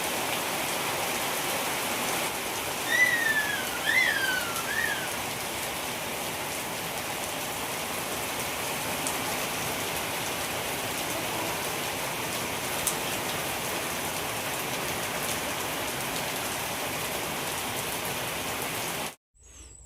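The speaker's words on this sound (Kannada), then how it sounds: "ಇಲ್ಲಿ ನೋಡ್ರಿ ಮಳೆ ಹೊಂಟದ ನೋಡ್ರಿ ನಮ್ಮ ಕಡೆಗೆ" Steady rain falls outdoors as a constant even hiss of drops on surfaces, with a few brief bird chirps early on, until the sound cuts off abruptly at the end.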